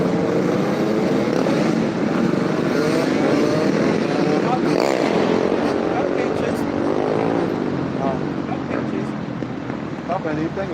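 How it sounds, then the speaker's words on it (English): Several motorcycles run around close by, their engines giving a continuous loud drone that rises and falls throughout, with people talking over the noise. "Just running around with motorcycles all day."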